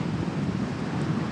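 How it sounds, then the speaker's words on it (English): A strong gust of wind sweeps across a hilly golf course during a tournament playoff, a loud, steady low roar buffeting the microphone for the whole moment with no speech over it. "Huge gust just came right through."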